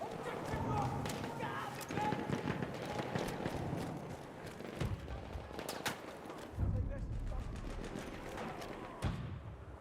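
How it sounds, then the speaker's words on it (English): Rapid gunfire from a first-person shooter video game, with repeated loud bursts and impacts filling a busy, continuous mix, while a player talks over the action. "Machine gun over there"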